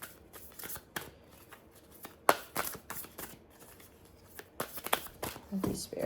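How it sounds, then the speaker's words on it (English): Tarot cards are shuffled by hand in a series of quick, crisp riffling bursts at close range, broken by short pauses, while someone talks over them. "We're going to pull a foretell card."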